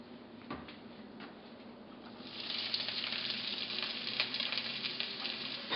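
Onions hit hot oil for a spicy grilled eggplant dip; after a quiet start with a few clinks, a loud, steady sizzle bursts up and crackles continuously close by.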